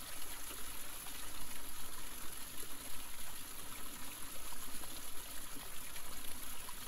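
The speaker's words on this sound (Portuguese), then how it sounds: "Vamos pousar a atenção no som da água corrente." Running water flows in a soft, continuous rush and trickle, steady and fairly quiet throughout, with no voices.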